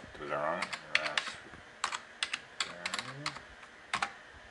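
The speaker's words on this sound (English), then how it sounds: "You type in the password." A password typed on a computer keyboard in a few close, crisp bursts of clicks. A voice talks faintly underneath the keystrokes.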